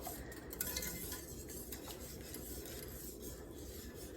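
A spoon stirs thick gravy in a pan on the stove, a continuous close scraping and rubbing against the metal with soft clinks, no voices.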